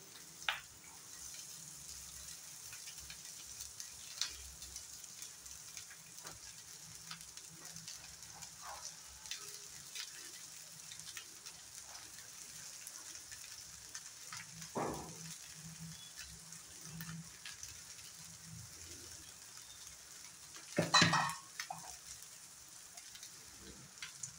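Cooked rice frying with onions in a pan over a lowered gas flame for paneer fried rice gives a faint, steady crackling sizzle, with a brief louder clatter of stirring near the end.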